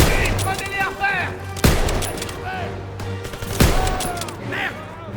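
Bursts of machine gun fire and single sharp gunshots crack through a Call of Duty WWII battle, with two loud reports standing out amid continuous combat noise and shouted voices.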